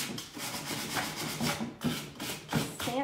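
A wooden cabinet knob is sanded by hand, giving close, raspy rubbing strokes in an irregular back-and-forth rhythm with no voices.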